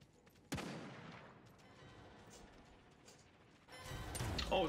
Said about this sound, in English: I think he's shooting at number two